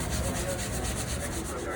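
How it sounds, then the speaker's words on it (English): A grill being scrubbed with a green scrubby pad, a steady, close, continuous rubbing and scraping with no pauses. "You just kind of work your way along and scrub that line off that you missed."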